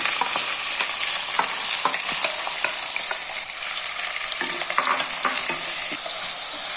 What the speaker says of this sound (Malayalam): ഇതിലേക്ക് ഒരു മൂന്ന് വലിയ സവോള പൊടിയായിട്ട് അരിഞ്ഞത് കൊടുക്കാം